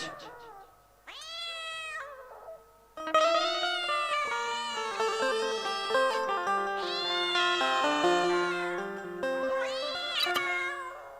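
Cat meowing repeatedly in a village house courtyard in Bihar, a run of loud, drawn-out wailing calls that rise and fall, close by, with a short pause before the cries resume almost continuously.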